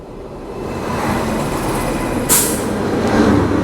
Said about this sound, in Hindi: कोई ट्रेन की क्रॉसिंग हो रही है।